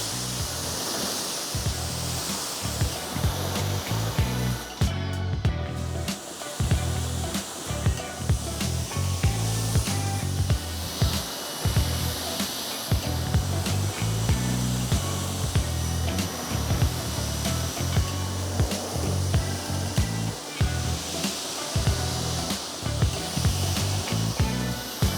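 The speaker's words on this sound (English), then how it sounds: "so we're gonna need to rinse the car." Steady broadband spray of water rinsing a car after a water-activated coating, loud and continuous with a brief dropout near the start.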